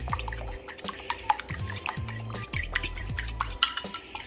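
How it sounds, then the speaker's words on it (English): Two eggs are whisked in a bowl for stuffed cabbage rolls. A utensil scrapes and clinks against the sides in quick, irregular strokes over a faint low rumble, with no talk. "I'm gonna take these 2 eggs and I'm gonna beat them"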